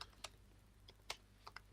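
A few soft, scattered keystrokes on a computer keyboard, quiet and close, in short irregular taps with pauses between them and no talking.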